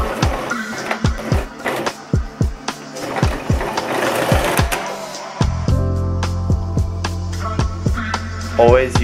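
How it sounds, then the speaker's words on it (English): Sewing machine stitching a waistband onto denim jeans with a denim needle: a rapid mechanical rattle with sharp clicks and thumps from handling, followed by a steady humming run toward the end. "put a few pins in it and sew it up"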